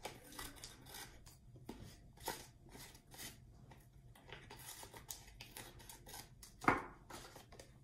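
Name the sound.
scissors snipping paper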